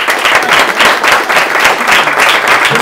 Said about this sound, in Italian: Applaudiamolo